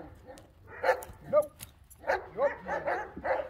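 Dog named in a pet training session makes short yips, whimpers and small barks in a loose rhythm, fairly close, with some faint background talk.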